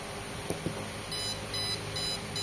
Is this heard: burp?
no